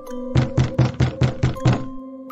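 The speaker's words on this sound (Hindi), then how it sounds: "कुछ देर खटखटाने पर कोई दरवाजा नहीं खोलता" Knuckles rap on a house door seven times in a quick, even series of close, solid knocks, with brief silence before and after.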